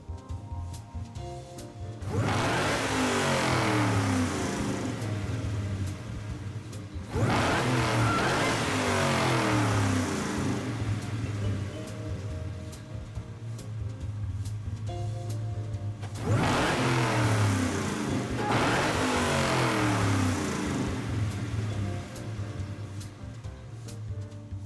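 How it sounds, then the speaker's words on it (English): A loud 1969 Camaro race car engine in Gran Turismo 7 roars in three long revving bursts, each climbing in pitch before dropping back to a rumbling idle between them. "that explosive noise comes courtesy of the Camaro 1969 race mod"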